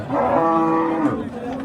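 At a cattle bazaar in Kattaqo'rg'on, Samarkand region, a cow lets out a single loud, drawn-out moo close by, fading after about a second into faint background noise.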